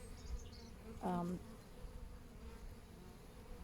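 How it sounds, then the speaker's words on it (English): A honeybee from a swarm gives a short, close buzz for a moment against an otherwise quiet outdoor background. "to pick the bees"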